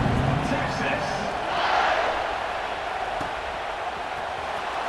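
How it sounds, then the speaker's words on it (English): Stadium crowd noise from College Football 26 roars as a steady, loud wash after a score, with an announcer talking over it. "this crowd is buzzing after that last score"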